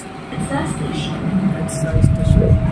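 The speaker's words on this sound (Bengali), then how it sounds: "আস্তে আস্তে ট্রেন চলছে" A Manila LRT train in the Philippines rumbles along at low speed, a steady low rolling drone with a faint tonal hum, heard from inside the carriage with speech over it.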